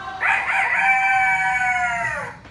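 A voice imitates a rooster's crow: one long, rough, drawn-out call, close and loud, with no other sound around it.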